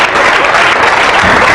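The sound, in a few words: married audience members clapping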